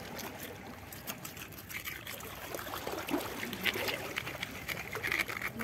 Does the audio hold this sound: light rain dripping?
yes